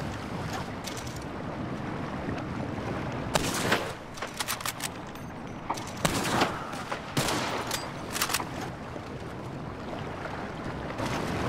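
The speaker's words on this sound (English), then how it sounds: "I'm using a medium scope on a bolt action rifle" Bolt-action rifle with a medium scope firing in Red Dead Redemption 2 Online, a few sharp cracks spaced several seconds apart over a steady background of wind and water ambience, no talking.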